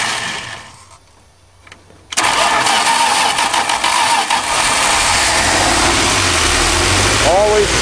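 A 1977 Dodge van with a starter that does not always catch is started with a screwdriver: quiet clicks, then the engine suddenly fires loud and settles into a rough, close idle.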